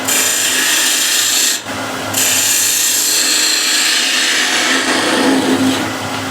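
A wood lathe spins a reversed bowl while a skew chisel shaves off a tailstock mark, giving a steady, loud broadband hiss and whir with a brief dip in the cut near the middle.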